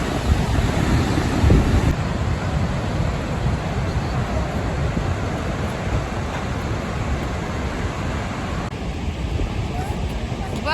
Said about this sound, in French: il y a beaucoup de bruit à cause de la cascade, enfin de la chute pardon